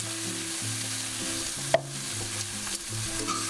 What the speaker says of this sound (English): gonna let all this kind of sizzle in the olive oil